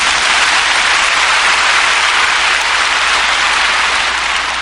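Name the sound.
congregation applauding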